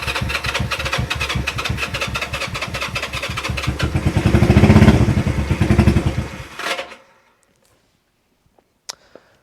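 A vintage Honda motorcycle with a fresh battery and the choke on cranks with a rapid mechanical clatter, swells into a brief rough surge as it tries to catch, then cuts out into silence broken by a couple of faint clicks.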